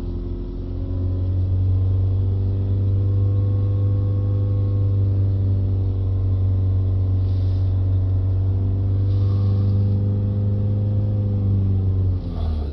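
A Ford Transit Connect with a 1.5 engine is held at a steady 3000 RPM, giving a loud, close, constant hum with a strong low drone that dips briefly near the end. No one talks over it.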